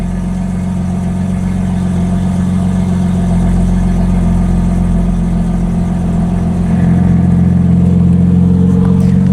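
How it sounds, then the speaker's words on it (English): BMW G80 M3 with its exhaust valves open, the engine running at a steady deep idle that rumbles up toward a fuller growl late in the stretch, loud and close throughout. "I'm gonna open up the valves now."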